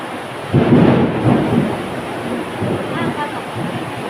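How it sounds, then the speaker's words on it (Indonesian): Thunder rolls during a rainstorm, a long low rumble that swells and fades over steady rain hiss, heard from indoors at moderate loudness with no talk over it. "Ada petir ya."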